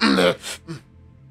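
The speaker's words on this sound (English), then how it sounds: "cough" A short, harsh cough like a throat clear, close to the mic, followed by two softer rasping catches.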